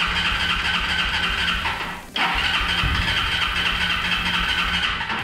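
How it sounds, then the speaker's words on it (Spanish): An Italika Vortex-200 motorcycle engine cranks to start, a loud continuous starter drone with a short dip midway before the cranking resumes, steady and close. "Vamos a comenzar a dar marcha."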